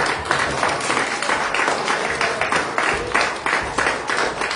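A church congregation claps and cheers in praise, with many hands striking in a loose, regular rhythm that fills the room continuously.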